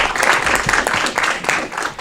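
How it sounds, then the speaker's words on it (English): At a city council meeting in Aurora, the audience gives a round of applause, with loud, uneven clapping from a moderate crowd rolling on throughout and no speech over it. "give him a round of applause for bringing that check"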